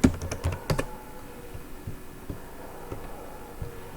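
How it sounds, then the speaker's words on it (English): Keys tapped on a computer keyboard while a password is entered, a quick cluster of close clicks at first, then sparser single taps over a quiet hum. "Again, retype the password."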